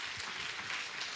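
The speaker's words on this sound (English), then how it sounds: "Give him a big round of applause." Brief, soft applause from a seminar audience on communication and career choice, a continuous faint patter of hands with no voices over it.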